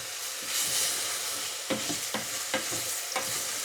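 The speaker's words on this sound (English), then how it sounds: "we just have to stand here and stir it" Mushrooms for a paella-rice risotto frying in a pan under a constant sizzle, with a spoon stirring in several distinct scraping strokes, close and steady.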